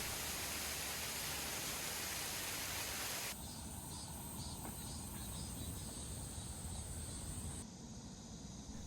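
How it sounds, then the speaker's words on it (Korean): An artificial waterfall beside a Namsan trail in Seoul pours a steady, loud broadband rush that holds throughout with no voices. "날이 더워서 그런지 인공폭포가 눈길을 끄네요."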